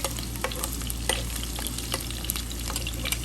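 Onions fry in a pan with a steady close sizzle while a utensil clatters as it stirs them. No voices are heard.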